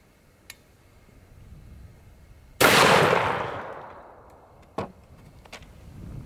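A single loud rifle shot firing an expanding copper slug at a cardboard box target, a sharp crack with a long decaying echo, followed by a few faint clicks afterward.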